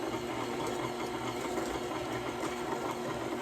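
Electric mixer whirring steadily through banana bread batter, a close, continuous motor drone with a slight rhythmic flutter and no pauses.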